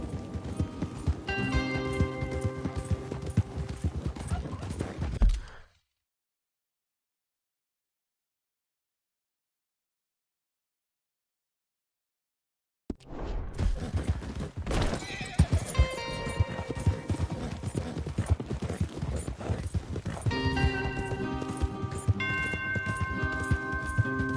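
Horses gallop with rapid clip-clopping hooves and loud neighs in the video game Red Dead Redemption 2, a busy layered scene that cuts to silence for several seconds before resuming.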